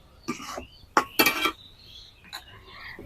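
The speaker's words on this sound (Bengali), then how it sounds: "এটাকে অনবরত নাড়তে হবে" Carrot halwa is stirred in a pan, giving a few short clinks and scrapes of a spoon against metal, close and moderately loud, with a pause between bursts.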